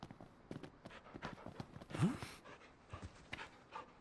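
A dog panting in Final Fantasy XV, quick soft breathy pants, faint and close, with a light whimper-like tone and no talking.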